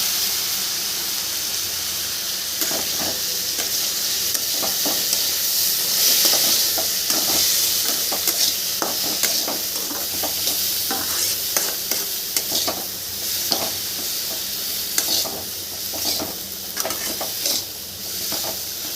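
Vegetables for a Tamil-style poriyal stir-fried in a pan: a steady, close sizzle runs throughout, broken by frequent scraping and clattering stirring strokes, with no talking.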